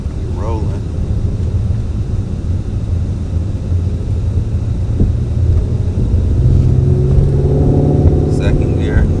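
A Ford Mustang GT350 with a manual gearbox pulls away in first gear, its engine a steady close rumble that swells and climbs in pitch toward the end.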